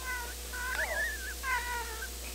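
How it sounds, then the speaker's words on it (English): A cat meows several times in quick succession, drawn-out wavering cries heard close by over a faint low hum. "Give me a meow."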